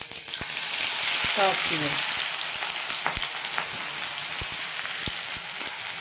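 Chopped onion, green chilli, ginger and garlic added to hot oil with cumin for veg keema, sizzling and crackling steadily with scattered pops, with a brief spoken phrase over it.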